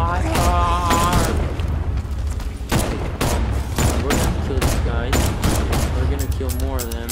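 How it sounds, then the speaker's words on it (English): Rapid bursts of gunfire in the video game Batman: Arkham Knight, repeated volleys and single shots crackling loudly across the stretch in an uneven rhythm. "Get your gun, Officer Owens. Fire!"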